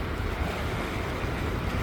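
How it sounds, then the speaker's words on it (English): Waves rolling onto the Hood Canal shoreline at Potlatch, Washington, a steady broadband wash with low rumble and some wind on the microphone, continuous and fairly faint, no voices. "I just love watching these waves."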